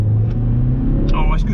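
A Suzuki Swift Sport engine pulls in second gear through a corner with throttle applied, a loud, close rumbling hum rising slightly as a person talks over it.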